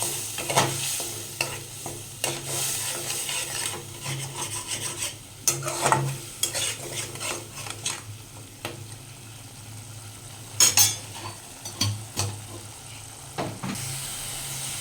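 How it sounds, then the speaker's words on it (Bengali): Spice paste with turmeric and a little water fries in a pan for a rui fish and raw mango curry, crackling and sizzling steadily while a spatula scrapes and stirs in repeated strokes, with occasional sharper clatters. "মশলাটা ভালো করে ফ্রাই করে নেব"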